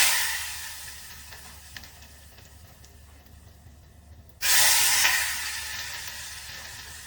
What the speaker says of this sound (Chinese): 倒入热油